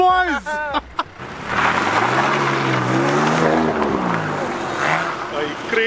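A BMW M2 drifting gives a loud, sustained engine roar with rising and falling revs. Voices talk briefly at the start, then the engine dominates, close and steady.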